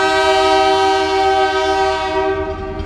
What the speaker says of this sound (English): Oh my gosh, a train!